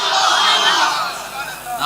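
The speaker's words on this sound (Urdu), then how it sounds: "نعرے" A crowd at an Islamic religious gathering chants slogans in unison, a loud, dense wash of many voices that swells and dips across a short burst.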